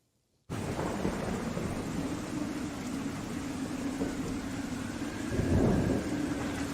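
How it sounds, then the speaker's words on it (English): Steady heavy rain with a low thunder rumble swelling near the end, a continuous storm wash that starts abruptly and stays loud with no voices. "with heavy storms heading their way"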